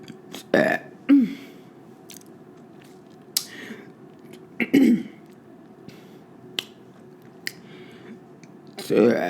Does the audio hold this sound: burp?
yes